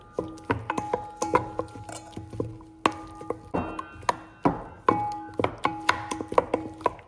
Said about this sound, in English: A salad fork, we're just gonna kind of mix it all in.